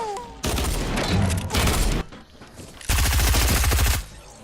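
SMG fire in a video game comes in three sustained rapid bursts of loud, close automatic shots, with brief gaps between them.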